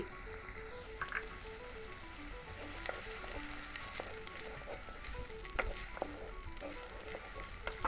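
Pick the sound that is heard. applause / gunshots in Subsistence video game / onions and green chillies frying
onions and green chillies frying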